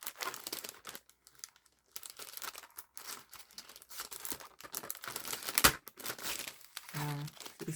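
Stuck paper being pulled and torn from a large studio-light die cut on a Big Shot machine: close, dry crinkling and ripping in short irregular bursts, with a sharper loud rip near the end.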